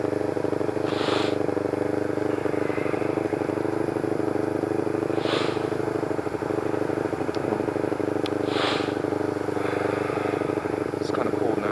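Motorcycle engine running steadily in the snow with the choke on, a constant close idle drone that holds evenly throughout, with a few faint higher clicks and hisses over it.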